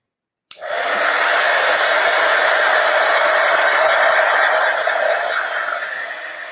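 A hair dryer blows steadily on chalk paste over a wooden vintage truck sign, starting abruptly and running loud and continuous with a broad rushing hiss, easing slightly toward the end.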